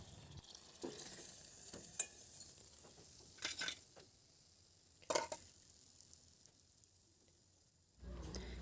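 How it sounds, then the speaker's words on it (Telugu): Cut mirchi bajji frying in hot oil, a soft continuous sizzle with occasional clinks and stirring scrapes of a utensil against the pan, faint and close. "బజ్జీలు ఈ విధంగా ఫ్రై అయితే చాలు"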